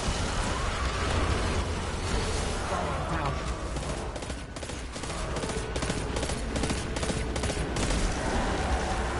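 Rapid bursts of pulse rifle fire from Destiny 2 play in a dense, continuous barrage amid heavy game noise, loud and near throughout.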